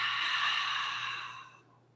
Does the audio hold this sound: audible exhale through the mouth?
yes